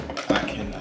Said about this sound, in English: So I'm gonna have to wash the dishes now.